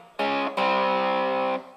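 Overdriven electric guitar plays a section of a riff: two quick power chords followed by one long sustained chord, loud and alone.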